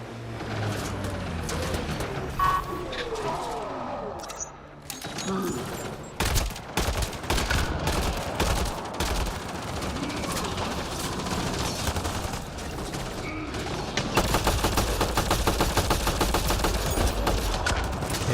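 Maddock rifle fire in Mass Effect Andromeda, a combat sequence of rapid automatic bursts and sharp single shots crackling over a busy game soundscape, loud and sustained throughout with a heavier stretch near the end.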